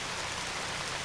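Steady rain falls in the video game Radiant Historia, a soft, even hiss of drops with no other sound in this brief stretch.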